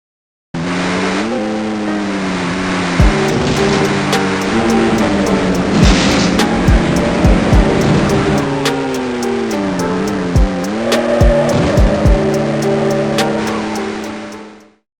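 A race car in Screamer 2 roars at a steady high engine pitch, its revs dipping and climbing as it brushes a wall at low speed, with sharp scraping clicks and knocks along the way.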